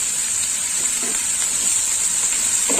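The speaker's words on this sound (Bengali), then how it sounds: "হলুদটা একটু ভাজা হবে" Turmeric powder fries in a pan, producing a short, steady sizzling hiss up close with a faint stir or two.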